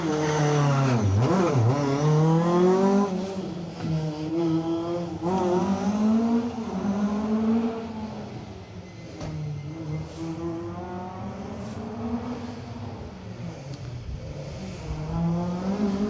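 Subaru Impreza GC8 rally car on an asphalt rally stage at night, engine loud and close, revs rising and falling through gear changes with a sweeping pass-by, then a steadier high drone that fades back.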